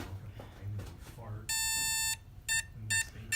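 A long electronic beep, then three short beeps in quick succession, sharp and high-pitched over faint low background sound, from a Traxxas UDR radio-controlled truck's electronic speed control during calibration.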